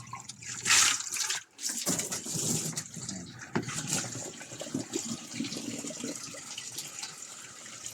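Water pours into a washing machine being repaired for a leaking drain, a continuous splashing fill with a louder rush near the start, trickling and dripping along the way, and no voices.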